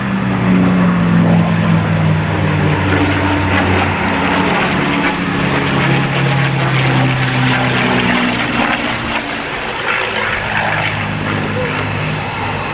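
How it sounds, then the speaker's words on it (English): A P-51 Mustang fitted with a Rolls-Royce V12 Merlin engine drones loudly and steadily overhead, its deep piston-engine and propeller roar sustained throughout with a slowly shifting pitch. "They took a Rolls-Royce V12 Merlin engine, the same type that was used in their Supermarine Spitfires and Hawker Hurricanes, put it in a Mustang"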